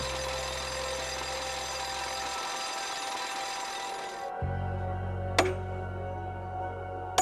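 Power drill boring steadily into a jade stone, a continuous grinding whine that shifts pitch partway through, then a couple of sharp knocks near the end, with no voices.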